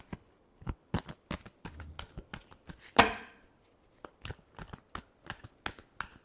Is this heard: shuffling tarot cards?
yes